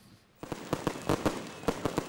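Fireworks going off at the first training session of football club Cambuur on club fields, with a rapid series of sharp bangs and crackles at moderate distance, roughly eight pops spread irregularly over two seconds.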